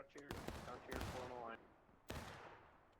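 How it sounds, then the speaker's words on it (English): A musket volley crackles out in a Civil War battle video game: several ragged bursts of overlapping shots, with one heavy rolling report followed by a later lone blast. A voice is briefly heard amid the gunfire. "That was a beautiful volley from fourth."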